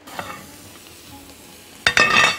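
Rice goes into a hot frying pan: a quiet stretch of faint stirring, then a sudden loud sizzle bursts up near the end and keeps crackling close by.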